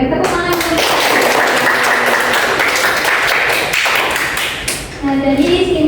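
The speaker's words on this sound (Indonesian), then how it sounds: "Tepuk tangan." Classroom applause from a group of students during a teaching practice lesson, a dense, steady wash of clapping that fills the whole stretch, with a brief dip near the end before it swells again.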